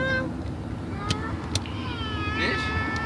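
A person imitates a cat's meow, giving a drawn-out vocal meow at the start and another near the end, with a few sharp clicks between them.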